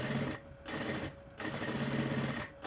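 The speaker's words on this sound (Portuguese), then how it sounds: "Aqui eu já vou aproveitar e fazer uma costura unindo o forro aqui na lateral, o forro com a parte principal." A sewing machine stitches the lining of a small baguette bag to its main fabric, running in steady whirring bursts broken by short pauses.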